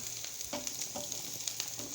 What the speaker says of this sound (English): my onions are still frying